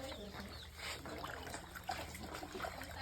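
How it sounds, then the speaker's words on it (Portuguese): A hand stirs lime into water, making soft sloshing and trickling sounds up close. A voice murmurs faintly in the background. "Agora eu vou mexer aqui com a mão."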